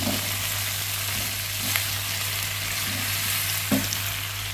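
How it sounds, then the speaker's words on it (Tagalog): Adobo ingredients with pink salt stirred in a pan of ham and chicken feet, a steady close sizzle with a few soft scraping strokes and a faint low hum, no voices. "Haluin lang natin"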